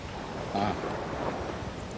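Ocean waves from a film's soundscape wash in a steady, windy surf, moderately faint and continuous, with a faint murmur of voices underneath.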